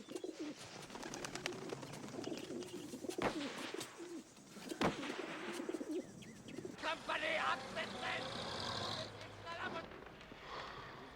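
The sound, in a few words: English carrier pigeon cooing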